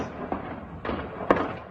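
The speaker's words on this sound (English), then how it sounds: "Gunfire could be heard echoing across the town of Sderot" Gunfire echoes across the town of Sderot, near the Gaza Strip, as a few distant cracks with reverberant tails spaced about half a second apart over a steady low background.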